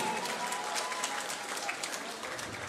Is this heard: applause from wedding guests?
yes